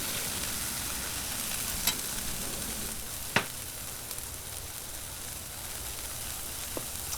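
Frozen veggies and onions sizzle steadily on a Blackstone 22-inch griddle, a constant close crackle broken by a few sharp metal spatula taps.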